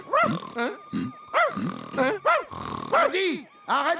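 The cartoon dog Odie from Garfield barks and grunts in a rapid series of short, strained yaps with brief pauses, close and fairly loud, with voiced growly inflections.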